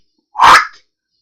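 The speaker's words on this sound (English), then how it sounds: "Crazy dog." A single short, loud dog bark, close by and sharp, lasting under half a second in an otherwise quiet room.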